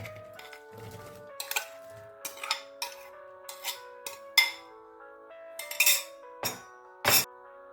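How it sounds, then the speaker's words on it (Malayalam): Cucumber pieces go into a clay cooking pot with a string of light clinks and knocks, scattered irregular taps of utensils against the pot, close and fairly quiet. "നമുക്ക് ഈ വെള്ളരിക്ക ഇതിലേക്ക് ഒരു ചട്ടിയിലേക്ക് ഇട്ട് കൊടുക്കാം"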